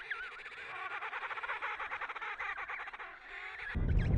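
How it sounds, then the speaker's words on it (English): Out in an icy colony, a bird chick gives rapid, high, faint chirps answering its mother's call, a trembling run of calls that ends in a sudden burst of rough noise. "her call pierces the icy air, answered by her chick's faint chirp"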